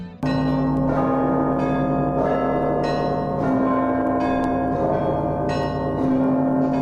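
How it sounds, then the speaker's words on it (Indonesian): Russian church bells ring out loudly, with deep low tolls sustained beneath brighter high bells struck in repeated strokes, full and resonant for several seconds without any voices. "Kita bisa mendengar suara bel yang dalam, rendah, dan tapi kita juga bisa mendengar suara bel yang tinggi."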